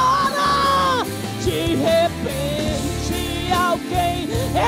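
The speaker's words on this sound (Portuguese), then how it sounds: "esse é o grito" A person lets out loud, drawn-out cries during an Assembly of God church service, the yelling rising and falling continuously over reverberant background sound.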